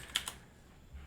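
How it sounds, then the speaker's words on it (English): A chattering computer keyboard gives two quick clicky keystrokes near the start, close and fairly crisp, followed by quiet room tone. "you need a keyboard that doesn't chatter like mine does"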